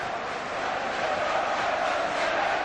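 Football crowd chanting steadily at a Wimbledon F.C. match during the 1999-2000 season, a dense, continuous roar of massed voices heard from a distance without pauses.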